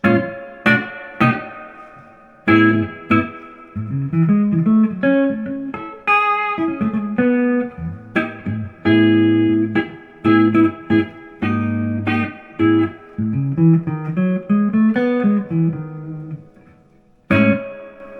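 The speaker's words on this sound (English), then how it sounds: "Let's wind the reverb up to number 6." Electric guitar notes and chords through a Fender Blues Junior amp with reverb set to 6 ring out with a heavy, washy reverb tail, each phrase blurring into the next.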